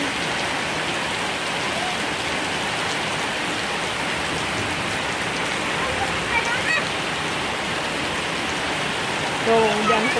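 Steady rain pours over rice fields in front of a house in Tasikmalaya, a dense, even hiss of drops that continues throughout.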